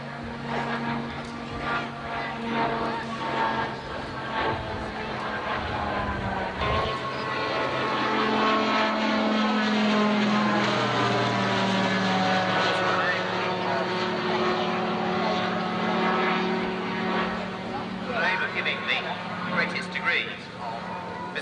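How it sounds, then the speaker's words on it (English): Engine of a three-seat observation aircraft from the Shuttleworth Collection, a steady quiet propeller drone with a rising and falling pitch sweep mid-clip, heard under continuous narration. "Underlined with that very quiet note of operation, serving to produce a 3-seat observation aircraft."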